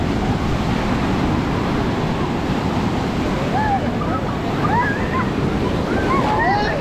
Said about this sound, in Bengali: এই যে সামনে দেখতেই পাচ্ছ পুরীর সমুদ্র, আর ঢেউগুলো দেখো বেশ ভালোই লাগছে